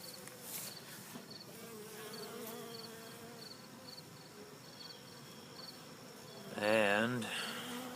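Honey bees swarming over a hive comb during an inspection produce a steady, close buzzing drone throughout, with a louder swell of wingbeats near the end.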